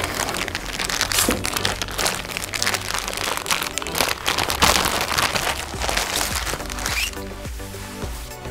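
A plastic tablecloth being unfolded and opened up for cutting party ceiling streamers, giving a steady run of dense crinkling and crackling rustles close by, with no talk.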